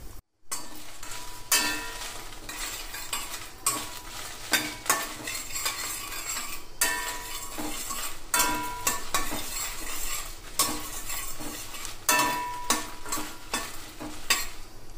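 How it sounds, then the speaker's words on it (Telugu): Eight to ten dried red chillies fry lightly in hot oil in a pan, a steady sizzle broken by repeated scraping and clinking of a spoon stirring against the metal. "ఆయిల్ కొద్దిగా హీట్ అయ్యాక 8 నుంచి 10 వరకు ఎండుమిర్చిని యాడ్ చేసుకుందాము. లైట్గా వేయించుకుందాం."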